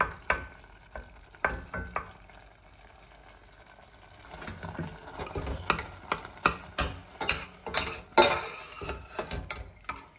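Cowpeas boil in a pot with irregular bubbling pops and clicks. The sound is sparse at first and grows denser and busier, with occasional stirring scrapes and no talk.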